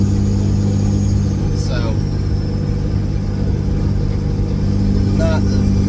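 A 2004 Dodge pickup with a 5.9 Cummins engine cruises in overdrive while towing a heavy load, a steady loud drone with constant road roar, and someone talks over it.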